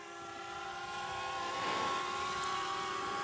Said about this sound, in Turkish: Şimdi drone yükseliyor ve helix görüntüsünü yapmaya başlıyor.